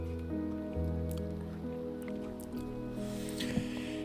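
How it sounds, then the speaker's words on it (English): Rain falls in a Minecraft world, a soft steady patter and drip laid over sustained background music, with no talking. "Oh, it's raining."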